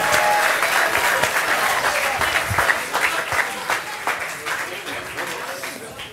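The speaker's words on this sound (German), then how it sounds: "Macht mal Applaus für das Battle von den beiden Jungs." Audience applause after a rap battle at a Berlin TOPTIER TAKEOVER event: loud, crackling clapping with scattered shouts that gradually thins and fades over several seconds.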